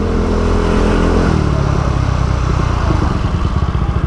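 Kawasaki ZX6R sport motorcycle fitted with an Austin Racing exhaust, loud and close, its engine note shifting from a steady tone into a rough, pulsing idle.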